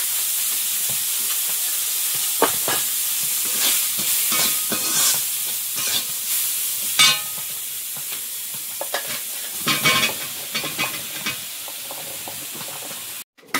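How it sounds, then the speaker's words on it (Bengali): Bottle gourd sizzling and being stirred in a pan of hot oil with turmeric and salt, a steady frying hiss broken by repeated scraping stirs and clatter, close and fairly loud. "লাউটা আজকে একেবারে চাপিয়ে দিচ্ছি, হলুদ গুঁড়ো, লবণ।"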